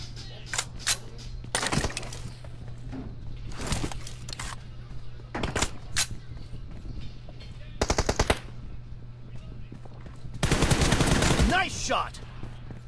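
Gunfire in the PUBG battle royale game comes as scattered single shots and rapid automatic bursts, with a longer burst near the end, all over a constant low hum, with occasional voices in between.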